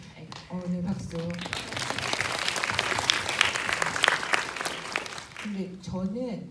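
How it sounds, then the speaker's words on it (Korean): An audience at a film screening Q&A in a Seoul cinema breaks into a burst of applause that swells and fades over several seconds, with people talking briefly before and after it. "네, 박수."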